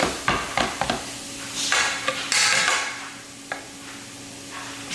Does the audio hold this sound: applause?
no